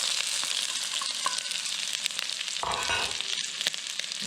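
Onions caramelize in a pan with a continuous, even sizzle and a few soft stirring scrapes, heard up close with no voices.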